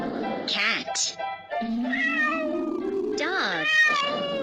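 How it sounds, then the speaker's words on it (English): Domestic cat meowing up close in a run of repeated meows, some rising into drawn-out, wavering cries, sounding like an animal-sound recording for children. "Cat."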